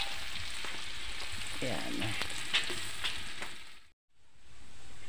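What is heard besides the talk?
onions sizzling while frying in a pan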